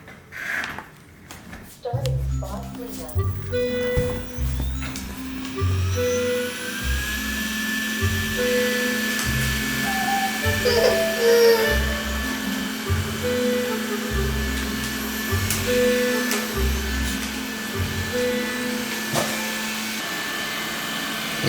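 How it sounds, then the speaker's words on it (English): A robot vacuum cleaner runs with a steady whirring hum and a thin whine, carrying treats on top for a dog, over a rhythmic low pulsing in the background. "I'm gonna put Haru's favorite treats on top of the vacuum cleaner."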